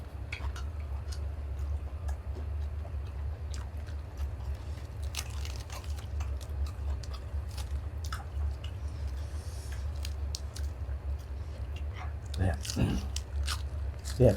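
Crunchy, crispy homemade pork eaten with spicy papaya salad, repeated close bites and chewing crunches over a low steady hum, someone talking intermittently.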